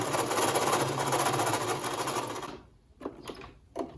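Sewing machine stitching over the pleats of a children's washable face mask, a fast steady whir for a couple of seconds, then stopping, followed by a few soft handling knocks.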